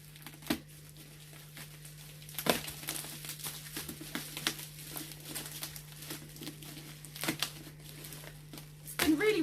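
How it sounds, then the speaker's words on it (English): Bubble wrap and parcel packaging crinkle and tear in irregular bursts as a package is pulled open by hand, close and fairly quiet, with a steady low hum in the background. "I'm struggling to get into it, having a bit of a fight with the bubble wrap"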